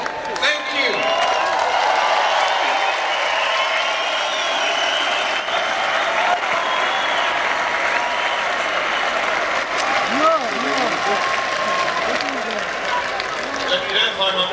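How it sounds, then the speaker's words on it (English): Sustained, fairly loud audience applause with some cheering and whoops at the Eden Project Sessions for speaker Tim Smit, a dense steady clatter lasting throughout with voices mixed in. "Have a round of applause for Tim, who invented this place."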